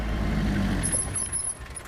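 A taxi pulling up close by on a Hong Kong street, its low engine rumble easing off as a thin, high brake squeal rises and fades while it comes to a stop, with no talking.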